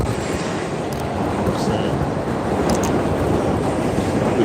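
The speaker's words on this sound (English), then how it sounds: "The train, y'all see it." An overhead train rumbles past on a New York City street, a loud, steady broadband roar with wind buffeting throughout and faint squeals on top.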